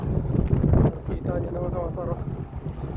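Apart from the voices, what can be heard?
strong wind outdoors in snowy Canada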